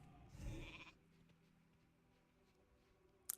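A short sheep bleat sounds from the polymorph spell in World of Warcraft, clear and brief against a faint game background, followed by quiet ambience and a sharp click at the end.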